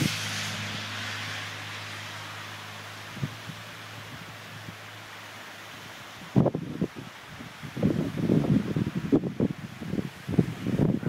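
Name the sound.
wind gusting during Hurricane Irene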